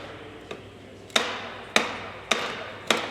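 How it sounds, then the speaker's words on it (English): Dead blow hammer striking a suspension strut to pop the spring perch loose on a BMW G82 M4, four sharp metallic whacks about half a second apart after a faint tap, close and loud with no talk. "get you a dead blow hammer, start popping that perch off of the strut"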